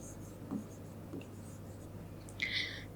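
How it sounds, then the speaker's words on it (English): Chalk or marker writes math formulas on a board in a quiet room, with a few soft taps and a short scratchy stroke near the end, faint overall. "I'll write all the formulas over here."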